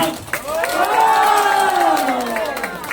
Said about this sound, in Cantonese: 俾啲歡呼聲聽好嘛？